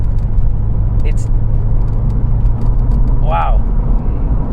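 Porsche 911 Turbo S, a rear-engine car, driving with a steady low engine drone inside the cabin; a person talks over it and a brief whine rises partway through.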